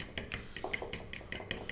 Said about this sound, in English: by whisking